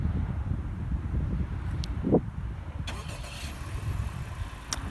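A 2018 Honda Accord Sport 2.0T engine turns over by remote start and settles into a low, steady idle, heard from outside with some wind rumble and a few faint clicks.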